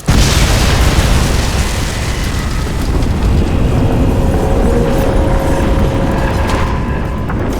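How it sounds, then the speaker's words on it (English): A massive explosion in the video game Crysis 2 Remastered erupts suddenly and roars on as a loud, sustained, rumbling blast that fills the whole stretch without pause. "Explosion imminent."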